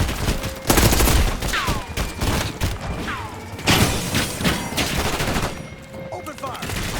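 Rapid gunfire bursts and volleys crack through a Call of Duty: Black Ops 6 campaign mission, loud and dense across several seconds, with a brief quieter stretch partway through and a fleeting voice mixed in.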